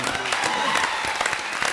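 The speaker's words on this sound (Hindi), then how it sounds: "एक बार फिर जोरदार तालियां।" Studio audience applause on a Hindi comedy show stage, scattered claps under a steady crowd wash with a faint voice mixed in, brief and moderately loud.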